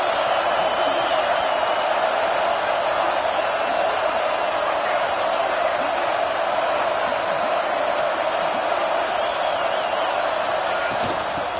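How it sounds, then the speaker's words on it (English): Football stadium crowd roaring steadily as fans rally behind the defense before a red-zone play, a dense continuous wall of cheering with no pauses and no distinct voices. "this crowd getting behind its defense"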